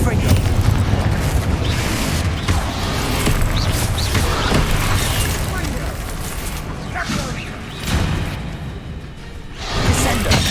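Confringo fire-blast spells in Hogwarts Legacy combat burst in loud, booming explosions with whooshes, layered over a dense, continuous battle din with voices shouting over it.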